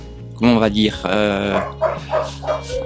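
Several dogs at an animal shelter bark and yelp loudly and close by, overlapping with whimpering cries in a steady, agitated chorus.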